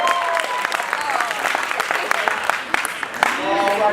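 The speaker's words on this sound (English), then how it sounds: "Applaud now." Audience at a Comedy Sportz improv show bursting into loud, close applause and clapping with scattered whoops, sustained for the full stretch, while a host's voice carries over it.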